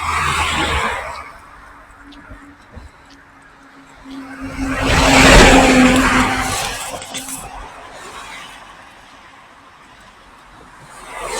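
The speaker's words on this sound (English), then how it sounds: "This bus coming up now" A bus approaches on a street, its engine and rolling noise swelling to a loud peak near the middle before easing away, with a steady low hum beneath and faint background chatter.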